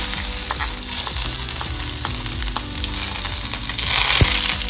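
Ginger and garlic hit hot oil with popping mustard seeds for a bright, close sizzle with crackles and light spatula scrapes, swelling into a louder hiss near the end.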